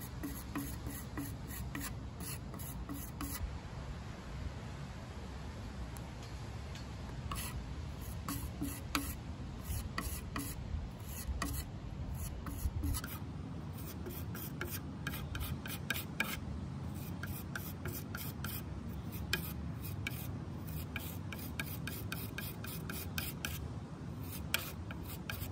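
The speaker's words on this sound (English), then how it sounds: "I'll be using a metal putty knife just to smooth out that wood filler and push it down into the wood." A metal putty knife scrapes and rubs wood filler into the surface of a wooden plant stand, a steady, close rasping texture that carries through, with no talk.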